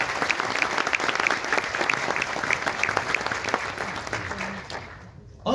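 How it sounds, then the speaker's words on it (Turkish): An audience at a symphonic concert held in memory of Aşık Veysel applauds steadily with rhythmic clapping. The applause fades out near the end. "Bu seçkin topluluktan, bu eşsiz değerli akşam için daha yüksek alkışlar geleceğine eminim."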